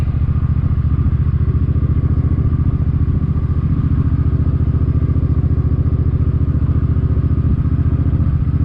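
Suzuki M50 motorcycle being ridden, its engine running at a steady, loud, close drone with a fast, even pulse and constant wind and road rumble throughout.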